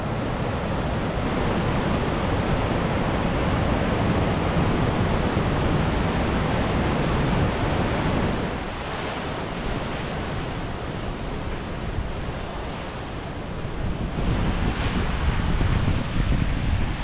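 Linville Falls on the Blue Ridge Parkway in North Carolina, a loud, continuous roar of rushing water filling the whole clip, with a brief dip partway through.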